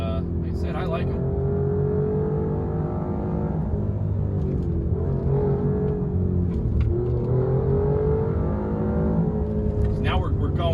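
An Alfa Romeo Giulia Quadrifoglio fitted with EBC Yellow Stuff brake pads descends a steep hill, its engine a steady low rumble with shifting pitch throughout, while a person talks over it.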